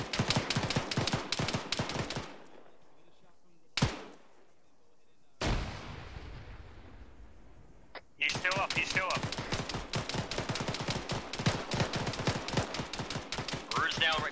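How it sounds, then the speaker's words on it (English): Heavy gunfire and grenade blasts in the Arma 3 military shooter during squad close-quarters fighting: dense rapid shots, then a lull broken by sharp detonations near 4 and 5.5 seconds, with sustained loud automatic fire returning. "Throwing a frag in."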